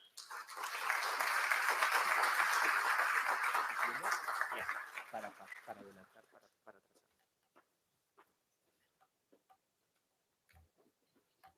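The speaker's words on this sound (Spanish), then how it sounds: "recibamos con fuertes aplausos al doctor Julio César Espinosa Goyena" A large audience bursts into strong, sustained applause welcoming a doctor to the lectern at a legal conference, the clapping swelling loud and dense for several seconds before thinning to a few scattered claps.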